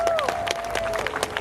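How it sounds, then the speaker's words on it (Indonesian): An audience at a public gathering claps in a short, dense burst of applause, with crowd noise and a sustained voice-like tone mixed in. "Tepuk tangan dong."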